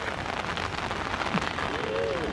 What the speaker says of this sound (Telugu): వర్షం పడుతుంది కాబట్టి సరిగ్గా కనబడట్లే